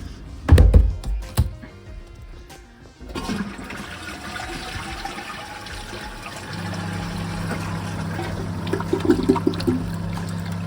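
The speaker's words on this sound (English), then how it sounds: "Hadn't held down the flush long enough." A plumber's toilet starts with a few sharp thunks of the handle, then a strong flush of water that settles into a low, steady refill trickle and hum.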